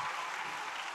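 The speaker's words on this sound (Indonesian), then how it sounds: "Tepuk tangan dulu dong buat anak-anaknya." Applause for children at a school stage performance of a traditional dance-drama, a steady wash of clapping from an audience, fairly close and continuous for under a second with no talk over it.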